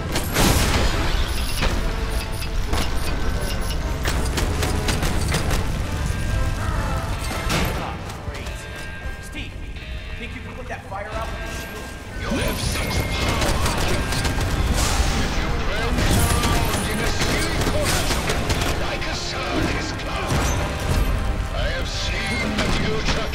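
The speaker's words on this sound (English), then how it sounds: "Activating cannon defenses." Cannon defenses firing in the LEGO Marvel's Avengers video game, repeated booms and crashes amid dense action noise, loud and busy, with characters speaking over the barrage.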